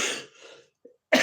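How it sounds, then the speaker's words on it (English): A person coughs inside an air raid shelter: a harsh burst opens, a quieter rasp follows, a brief catch of breath, then a second sharp cough near the end after a moment of silence. "I know I got some kind of cough coming on now"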